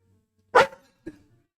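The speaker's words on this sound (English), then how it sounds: "That's the loud one is a dog named Bingo" A dog named Bingo lets out two sharp barks indoors, the first loud and the second shorter and softer, separated by a brief pause.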